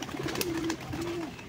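A golla pigeon gives two drawn-out, close coos while being caught by hand, each a steady low hum with a short rise at the start.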